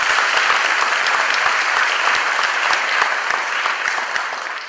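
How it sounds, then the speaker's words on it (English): An audience at a high school senior awards night applauds, dense sustained clapping from many hands filling the room at a steady level before slowly tapering. "Big round of applause for Stephanie Lugo."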